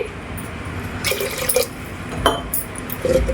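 Two glasses of water are poured into a pressure cooker holding moong dal for pongal, giving a few short splashing, filling bursts with brief pauses between them and no talking.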